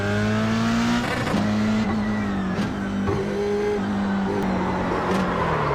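A race car engine drones steadily on track in the iRacing sim, its pitch rising and falling with gear changes and revs, loud and continuous with no talk.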